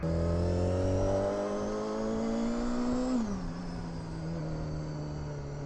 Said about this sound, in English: Second time riding this bike, and she's old, so we're gonna let her warm up before we really open it up